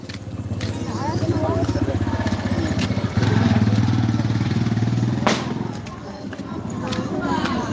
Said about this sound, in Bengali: বাইক আসছে